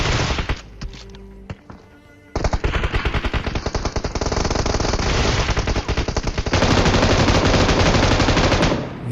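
Gunfire in the PUBG Mobile video game comes loud and close in sustained machine-gun bursts with rapid rhythmic shots. It starts with a few thuds and grows denser and heavier toward the end.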